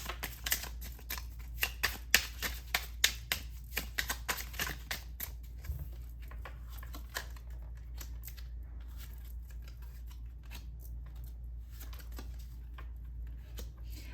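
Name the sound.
shuffling and pulling out tarot cards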